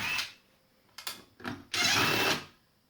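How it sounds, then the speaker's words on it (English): A power drill buzzes in short bursts and then one longer whir, backing screws out of a Scheppach PL55 rail saw during a teardown, close and loud. "Just take all these screws out."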